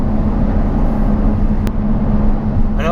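Mercedes car with a straight-through exhaust cruising in seventh gear, a loud, steady low drone and rumble with road roar filling the cabin and no break.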